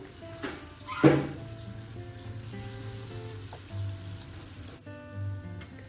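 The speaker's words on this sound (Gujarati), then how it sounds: "તો હવે આપણે જે સેવ રોલ બનાવ્યા છે એને ફ્રાય કરી લઈશું." Sev rolls frying in hot oil, a steady close sizzle with a louder burst near the start as they drop in, easing into a continuous crackle that quiets briefly near the end.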